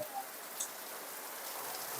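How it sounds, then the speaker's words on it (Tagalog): Steady, dense hiss of rain falling continuously, with a faint drip or two and no voices. "malakas ang ulan"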